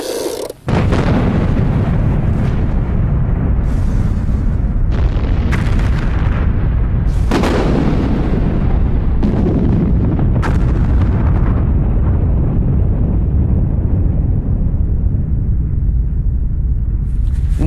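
Series of deep booms and rumbling blasts from mines detonated beneath the trenches of the First World War Western Front, loud and continuous, with sharp explosive onsets recurring over a sustained roar.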